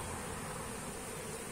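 Honeybees humming at an open hive holding seven frames of brood out of nine, a dense, steady and close swarm buzz that never lets up and has no voices over it.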